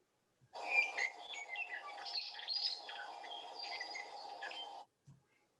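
A Hawaiian bird sings a continuous run of bright whistled and chirping notes for about four seconds, clear and close against a quiet background, then stops abruptly.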